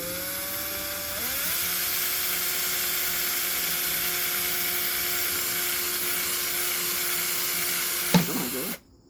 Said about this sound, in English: I'm going to start a pilot hole up here